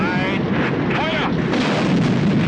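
A military artillery battery fires a salvo, a heavy sustained roar of blasts and rumble that fills the space, with a voice faintly audible beneath.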